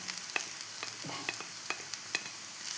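Grated coconut and banana are sautéed in a pan for elanji filling, producing a soft sizzle with intermittent spatula scrapes and taps in an irregular rhythm, close and fairly quiet.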